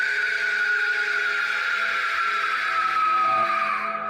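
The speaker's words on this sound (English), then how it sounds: "This car is making its way down the BKE Expressway in Singapore" A car on the BKE Expressway in Singapore gives off a loud, sustained high screech like a scream, its pitch sliding slowly downward over a few seconds with a rushing road roar beneath it.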